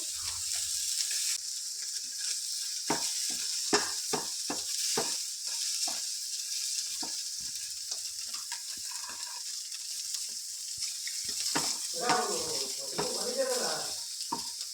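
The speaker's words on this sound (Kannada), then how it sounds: "ಪನ್ನೀರ್ನೆಲ್ಲ ಚೆನ್ನಾಗಿ ಫ್ರೈ ಮಾಡ್ಕೊಬೇಕು" Paneer pieces fry in a pan for paneer palak masala, a steady sizzling hiss running throughout with repeated scraping stirs and clinks, loud and close, with occasional bursts of spatter.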